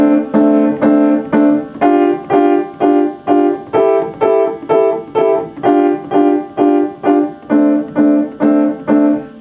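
A diatonic harmonica plays blues chords with an added seventh as short, evenly spaced stabs, about two per second, with no talking.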